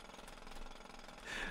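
A jackhammer drilling steadily in a video game, a continuous loud rattling buzz that swells toward the end, with no voices.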